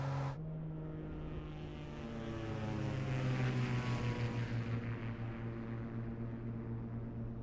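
A simulated aircraft engine in a flight simulator drones steadily with strong harmonic tones, rising slightly in pitch and loudness midway before settling, heard alone and close.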